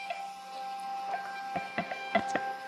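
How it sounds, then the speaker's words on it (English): Rollo label printer printing shipping labels, a steady mechanical whir with a series of sharp ticks and clicks building toward the end, close and fairly quiet. "If you have a Rollo printer connected, it's gonna print these straight to your Rollo."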